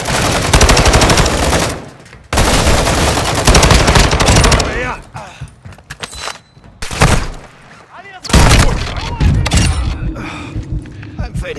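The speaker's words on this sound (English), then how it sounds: "You are taking effective fire." Dense automatic gunfire in Call of Duty MW2, long loud bursts broken by short pauses, with explosions and in-game voices calling out over the fighting.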